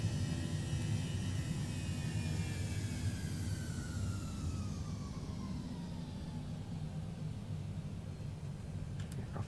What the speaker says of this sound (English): positive climb and gear up. Throttle into climb.